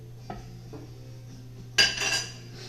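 A crawfish fettuccine mixture is dumped into a casserole baking dish, opening with faint clinks of utensils, then a sudden, close, wet sliding scrape and clatter of the dish that fades out, with no speech.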